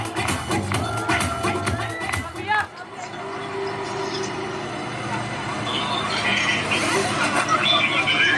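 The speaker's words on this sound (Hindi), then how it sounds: "तालियां होनी चाहिए इनके लिए" An audience at a sangeet wedding celebration claps and cheers in a dense burst, then the crowd noise settles into a lighter, steady murmur of clapping and chatter, with voices talking over it.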